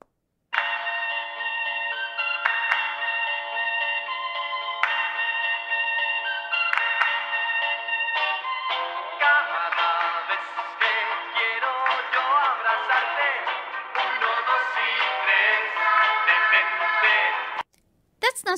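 A bubblegum pop song plays back from a phone recording, thin and tinny with a bright melody and voice-like vocals, fairly loud and continuous before cutting off abruptly near the end.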